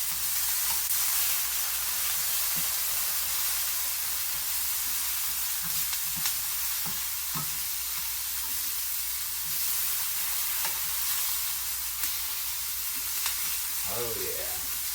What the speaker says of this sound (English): Then we'll give them a quick stir and a flip.